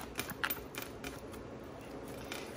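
Tarot cards are shuffled by hand in a quiet room, producing soft, irregular papery riffles and flicks that come in short uneven bursts.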